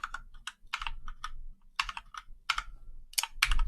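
Typing on a US-layout computer keyboard, with bursts of quick key clicks separated by short pauses, close and fairly quiet, and no talking.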